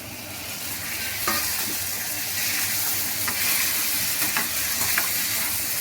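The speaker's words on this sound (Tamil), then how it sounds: "அந்த காயை நல்லா வதக்கிட்டு" Brinjal with garlic and masala powder sizzles and fries steadily in a hot pan, a continuous close hiss with occasional stirring scrapes and clinks.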